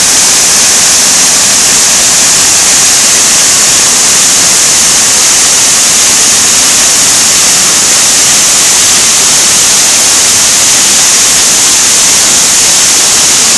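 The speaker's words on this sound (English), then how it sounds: "That main fall on the right is just pummeling the water over the top." Benlister Falls at Lamlash running in spate after heavy rain, the main fall pummeling water over the top in a loud, unbroken roar of broadband rushing noise with no pauses.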